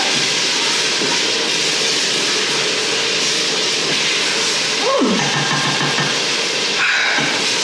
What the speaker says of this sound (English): Just stir it in so it can all fry together, cook together.